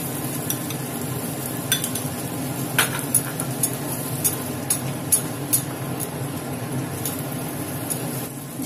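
Whisked yogurt stirred into cooked-down masala in a pan for a prawn curry, a low simmering bubble under a run of sharp, evenly spaced clinks and scrapes of a spoon, with no voices.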